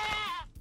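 Goat in the survival game Hurtworld gives a single short, close bleat that trails off quickly.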